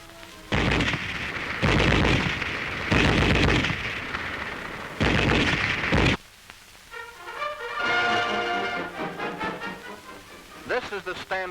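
A German MG-34 7.92 mm army machine gun firing four loud, close sustained bursts with short gaps, followed by someone speaking.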